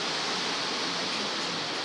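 Río del Valle river in Pejibaye, Cartago, flowing past an outdoor dining spot, a steady, close, dense rush of water with no voices.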